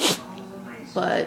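A single short sneeze bursts out at the start, followed by a person speaking and a second voiced burst near the end, all close and fairly loud.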